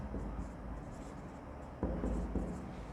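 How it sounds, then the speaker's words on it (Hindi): Pen scratching on paper during a handwritten accounting lesson, faint irregular strokes close to the microphone over a quiet room. "लिखने की ज़रूरत है, लिखते हैं।"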